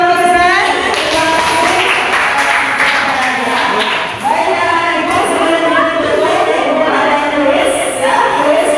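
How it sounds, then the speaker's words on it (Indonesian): Sustained applause from a classroom crowd fills the space, an even wash of clapping that briefly dips midway and then carries on strongly. "oke, tepuk tangan untuk saya."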